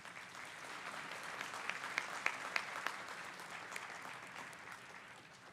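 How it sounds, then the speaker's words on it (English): Audience applause at a graduation ceremony, a steady wash of many hands clapping throughout, fairly distant and even, with a few sharper individual claps standing out near the middle. "Can we give them all a round of applause?"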